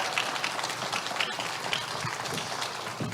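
A conference audience at a TEDx event gives a round of applause for a speaker, steady and fairly faint clapping that fills the room evenly with no voices over it.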